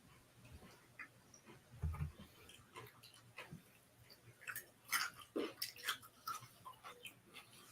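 Someone chews a crunchy garlic snack up close, with quiet irregular crunches and bites in a near-silent room and no talking.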